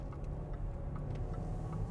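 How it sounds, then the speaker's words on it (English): A 2010 Range Rover accelerates with a low, steady engine rumble heard from inside the cabin, close and even in level, with faint ticking above it and no talking. "Foot's on the gas."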